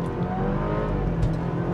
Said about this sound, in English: If I hit the gas here,